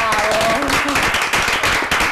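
Applause from an audience honoring Miguel García at a trades school event, dense steady clapping for about two seconds with a voice over it.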